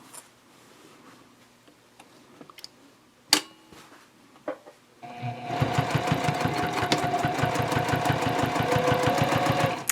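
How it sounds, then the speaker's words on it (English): Near the start, a few scattered clicks and handling noises are heard. Then a sewing machine starts up and stitches steadily over a tote bag seam, its rapid, even mechanical chatter continuing loud and close to the end. "I'm just going to go back and sew over that seam one more time"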